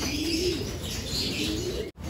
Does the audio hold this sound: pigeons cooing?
yes